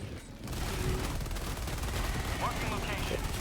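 Gunfire from the shooter game Helldivers 2 pours out as a continuous, dense barrage of rapid shots with booming low end.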